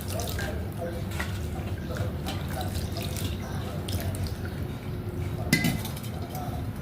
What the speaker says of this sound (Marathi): हे गार पाण्याने स्वच्छ धुवून घ्यायचं परत